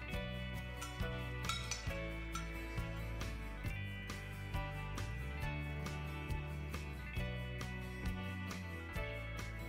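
Peanut chaat with lemon juice and olive oil is stirred, giving faint, regular clinks and taps of a spoon against a bowl over quiet background music.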